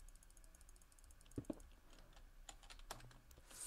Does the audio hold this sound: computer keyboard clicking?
yes